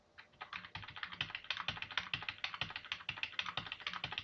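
Steady, rapid typing on a computer keyboard while entering programming code, close and clear with a quick, slightly uneven rhythm of key clicks and no talking.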